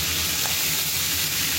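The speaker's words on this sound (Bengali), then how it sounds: "পটলগুলো ভাজা হচ্ছে।" Pieces of pointed gourd (potol) coated in salt and turmeric fry in hot oil, giving a steady, dense, crackling sizzle at close range with no voices.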